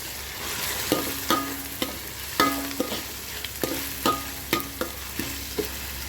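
Ginger garlic paste frying with onions in a pan for a peethalu curry, a steady close sizzle running throughout while a utensil scrapes and taps the pan at roughly regular intervals, no talking.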